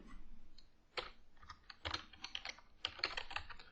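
Typing on a computer keyboard, a quiet run of close key clicks in bursts with short pauses, nothing else in the background.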